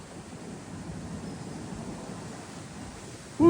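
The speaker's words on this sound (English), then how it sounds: "Just all of a sudden got really windy." Strong gusty wind rushes outdoors beside a railway line in Kentucky, a steady broadband roar with microphone buffeting, cut off at the end by a sudden loud tone.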